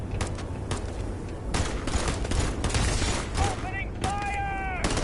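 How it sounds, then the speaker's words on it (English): Gunfire in the space game Starfield, dense bursts of shots that run on and off throughout, loud and continuous, mixed with whirring and tonal sci-fi effects near the end and a voice speaking over the action. "Opening fire!"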